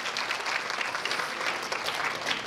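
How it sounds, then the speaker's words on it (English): Audience applause fills a room at the Fiji Idol 2017 singing competition in the USA: a steady, dense wash of many hands clapping, moderately distant, with no voices over it. "Big round of applause for Askan"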